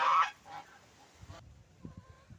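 Domestic geese moved from a yard into a garden plot give a loud honk up close, then a few fainter calls, with light rustling and thuds afterwards and no talking.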